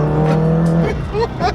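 A Nissan Skyline R34 GT-R accelerates hard in a brief, loud burst of engine drone and rising revs heard from close by, with voices briefly audible over it.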